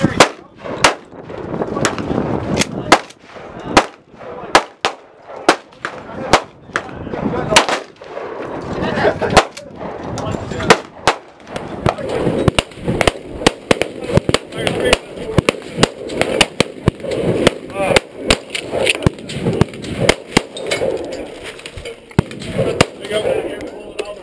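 A Serbu Super Shorty shotgun fires repeatedly at an outdoor shoot, loud sharp blasts in irregular bursts with echoing reports, close to the recorder, while people talk between shots.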